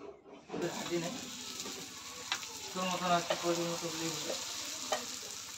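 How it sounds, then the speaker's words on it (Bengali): Fuchka being deep-fried on a stove, a steady close oil sizzle with brief stirring clinks and scrapes, bubbling that swells in the middle stretch, and faint voices in the background. "এই যে এখন আমরা চুলা ধরিয়েছি, ফুচকা ভাজবো।"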